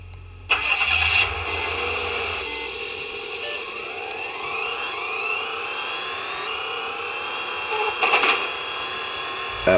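Engine noise from a racing video game set in Hamburg, with a startup burst, then steady mid-pitched revving and rising whines across the race, heard alone at moderate loudness.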